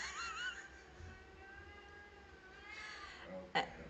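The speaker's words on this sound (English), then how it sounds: "Now he's meowing." A pet cat at a beachfront A-frame cabin gives a few wavering, drawn-out meows, the first near the start and another later, over a quiet room hum, with a short sharp knock near the end.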